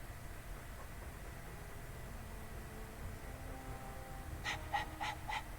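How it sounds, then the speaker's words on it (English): Rapid, breathy dog panting from Dragon Age 2 runs steadily and close throughout, with a few brief sharper bursts of another sound near the end. "All that noisy dog breath"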